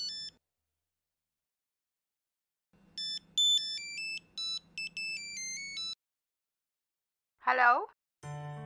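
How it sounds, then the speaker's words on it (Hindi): A mobile phone ringtone plays a bright electronic melody of stepped tones for a few seconds in a quiet room during a Hindi TV drama scene, followed by a short warbling electronic chirp and a faint low hum. "ऐसा देखना है किसका फोन।"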